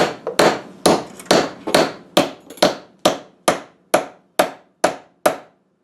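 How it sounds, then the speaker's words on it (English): Twelve sharp, evenly spaced hammer blows drive a part into an old wood door, each strike ringing briefly before the next, steady rhythm up close with no talking. "So I think I'm just going to hammer this in."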